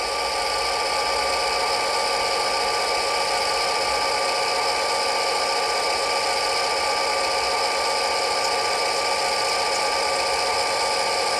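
An Athearn MP15AC model diesel locomotive's small electric motor runs at full throttle, a steady whirring drone with a fine tonal hum holding constant throughout.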